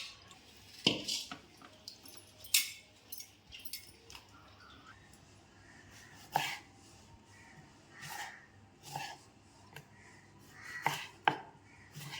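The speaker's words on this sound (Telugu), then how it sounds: "పచ్చిమిర్చి తొడాలు తీసుకుందాం. తొడాలు చేసి ముక్కలు చేసి వేసుకుందాం" Green chillies being chopped into pieces on a board, sparse irregular knife taps, close but quiet, against a faint low background hum.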